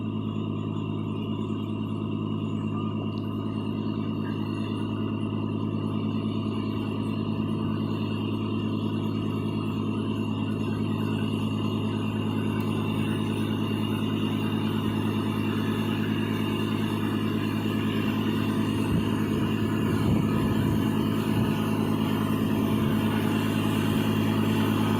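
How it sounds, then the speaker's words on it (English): A John Deere tractor engine runs at a steady, moderate drone during a ride, holding an even idle-like hum for the whole stretch with no voices. "Here's Jackson's first tractor ride. He is so excited to get on the tractor."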